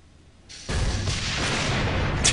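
A frag grenade goes off in Gears of War: a sudden loud, broad blast that lingers as a rumbling roar for well over a second, with no talking.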